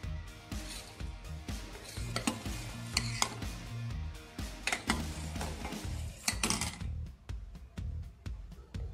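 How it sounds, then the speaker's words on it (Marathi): About a litre of milk, just boiled, is stirred in a pot for paneer, with a spoon scraping and clinking against the metal in a steady, busy rhythm over a low bubbling hiss, close and moderately loud. "चालू तर आता याला थोडे चांगले हलवून घेऊ"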